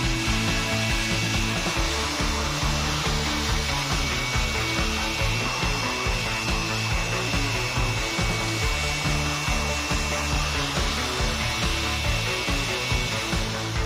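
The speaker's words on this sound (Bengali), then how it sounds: "ব্রাশ এবং ব্লোয়ারের মাধ্যমে খুব সহজেই ক্লিন করে ফেলছি।" An electric air blower runs continuously at close range while dust is cleaned at home, giving a loud, steady rushing whir with a gritty mechanical edge and no pauses.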